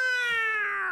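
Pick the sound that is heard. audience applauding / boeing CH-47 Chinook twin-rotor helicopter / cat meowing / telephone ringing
cat meowing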